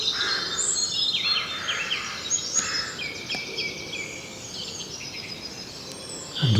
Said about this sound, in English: So I can hear a rook, or I can hear rooks, a song thrush.